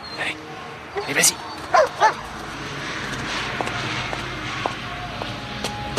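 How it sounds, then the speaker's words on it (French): A dog gives a few short, close barks and yips in quick succession early on, then falls quiet while someone speaks French nearby in an indoor setting. "c'est beau chien, ça"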